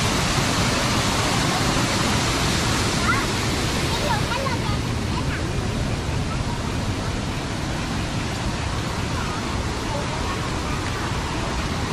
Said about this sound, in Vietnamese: Suối này to đấy nhở, nước to nhở.